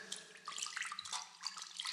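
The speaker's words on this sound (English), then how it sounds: ""Why don't you ever come in?" cried Cyrus, laughing and splashing" Water splashing as a cat bathes in a horse trough, several soft, quick splashes and trickles close by, fairly faint, with no voices.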